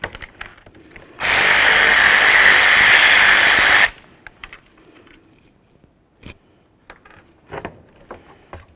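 A power tool buzzes loud and steady for about three seconds while removing a 13mm nut from the power steering reservoir of a 2008-2020 Dodge Grand Caravan, then falls away to scattered small clicks and handling noises.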